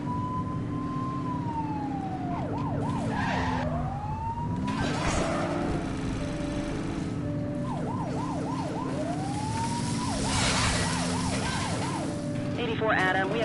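Police car siren in The Precinct video game, wailing and yelping in repeated sweeping cycles over a steady engine drone, loud and close, with brief voice chatter mixed in.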